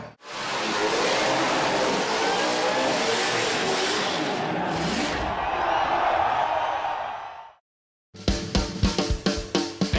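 A car revs hard in a burnout competition at the Red CentreNATS in Alice Springs, its engine a loud, sustained roar for about eight seconds before cutting out, then a series of sharp rhythmic revs follows.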